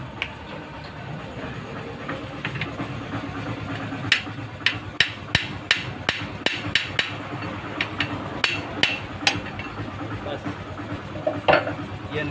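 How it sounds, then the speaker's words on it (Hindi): A tight cylinder is hammered out of a Changfa R190 diesel engine: a burst of sharp metallic blows, quick and irregular, rings out over a low background hum after a few quiet seconds. "तो ये सिलेंडर को बाहर निकाल लेंगे, थोड़ा टाइट है, इधर से ठोकना होगा।"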